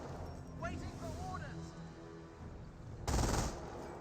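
Bursts of MG42 machine gun fire in the Company of Heroes strategy game, heard under a commentator's steady talk, with the loudest volley near the end.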